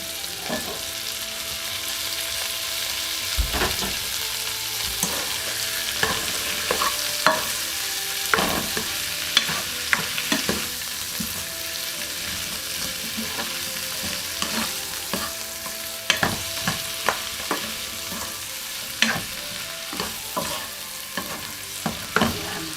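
Beef tongue stir-frying with ginger and chili on a sizzling pan, a steady bright hiss punctuated by frequent clacks and scrapes of a spatula stirring, close up with no talking.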